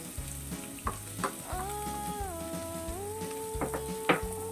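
Sliced bitter gourd (ampalaya) sizzles steadily in a hot pan with Spam, with intermittent clinks and scrapes of a utensil stirring, close and moderately loud with no talking.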